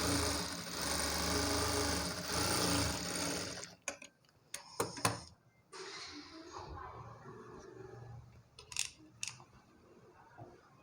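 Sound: sewing machine stitching a blouse

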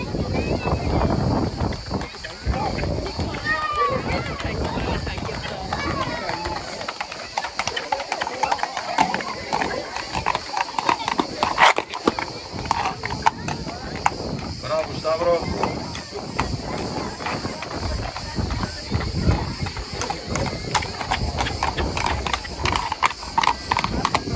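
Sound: horse walking, hooves clip-clopping at horse show

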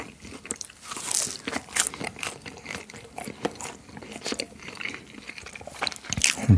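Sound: eating crunchy frozen wood-fired pizza, mukbang

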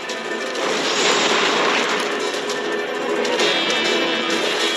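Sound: explosion

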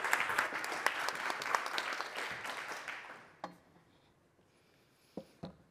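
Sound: audience applause welcoming a speaker

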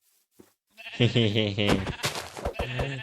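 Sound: sheep bleating in the video game Minecraft

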